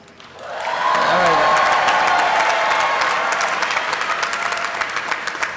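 An audience at a university commencement ceremony breaks into applause for the student speaker, swelling quickly from quiet into a broad, sustained wave of clapping that slowly thins toward the end.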